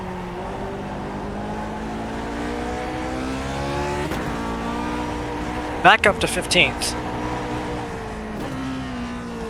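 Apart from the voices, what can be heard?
race car engine revving in iRacing Grand Prix Legends video game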